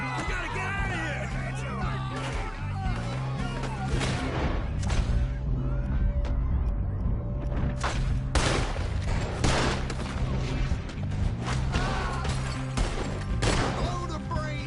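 Video game shootout with a busy run of gunfire bursts and crashes, loud and continuous, under shouting voices and a steady low musical drone.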